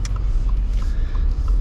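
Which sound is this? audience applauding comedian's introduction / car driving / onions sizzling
car driving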